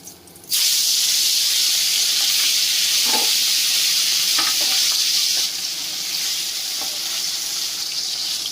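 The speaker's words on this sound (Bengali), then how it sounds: "বাকি মাছ দুটোকে একইভাবে ভেজে নিতে হবে" Pieces of vetki fish frying in hot oil give a loud, steady sizzle and hiss that sets in suddenly after a quiet start, with a few soft clinks of a utensil partway through, and no speech.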